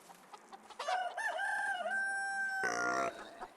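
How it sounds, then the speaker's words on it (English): Chickens in the farming game Medieval Dynasty: several sharp clucks, then a long sustained crow from a rooster, followed by a brief loud harmonic squawk, fairly close and clear with no talk. "So we've got chickens."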